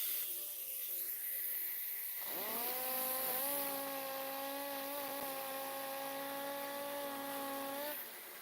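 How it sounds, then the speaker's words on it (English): A power sander on a wooden filler piece spins up about two seconds in and runs with a steady, loud, whining hum for several seconds before cutting off near the end, with no talking. "because you're trying to sand this down"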